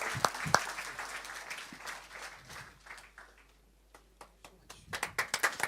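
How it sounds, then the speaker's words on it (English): Scattered applause from an audience at a college event with an MTV ambassador launch, clapping dense at first, thinning to a quiet lull, then rising again in closer, louder claps. "Can I have a huge round of applause as they're presented with mementos?"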